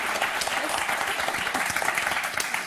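Studio audience applauding on the French TV word game show Motus, dense steady clapping filling the room, close and lively throughout.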